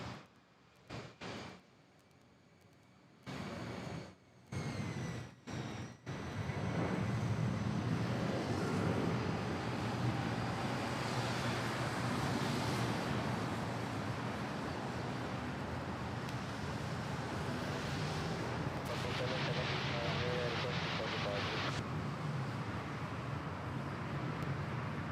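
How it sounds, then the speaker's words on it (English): Airbus A320 departing Manila airport toward Legazpi: a steady, broad jet roar that builds after a few choppy seconds and holds at a distant, constant level, with no voices. "after the departure of this A320 to Legazpi"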